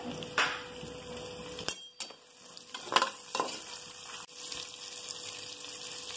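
Onions sauté in a pan for kuska, a soft sizzle with a few sharp clinks and scrapes of a utensil against the pan and a brief quiet gap partway.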